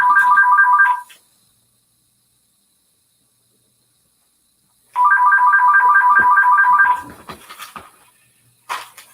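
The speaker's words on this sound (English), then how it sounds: "I forgot to shut down my cell phone, so that's going to be a competition" Cell phone ringtone going off loud and close in a repeating electronic pattern, stopping after about a second, then ringing again for two seconds before trailing into scattered handling noises.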